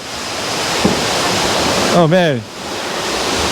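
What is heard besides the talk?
waterfall at The Garret Mae Kampong hotel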